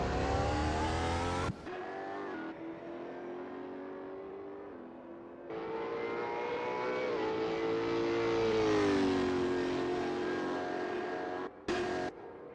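Super2 race cars lap the Phillip Island circuit, engines screaming high as they pass, with rising and falling pitch through gear changes and a couple of abrupt cuts between passes.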